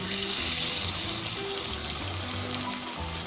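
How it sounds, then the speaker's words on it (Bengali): Milk sweetened with sugar is poured over a whole roasting cauliflower in a hot pan, giving a steady hissing sizzle and liquid rush that carries on for a few seconds without talk. "দুধটুকু ঢেলে দিচ্ছি।"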